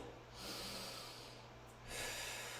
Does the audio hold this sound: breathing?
yes